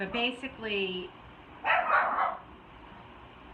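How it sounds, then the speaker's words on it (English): Dogs barking indoors, a burst of several sharp barks in the second half following a woman's speech, moderately loud and close behind her voice. "sorry about my dogs."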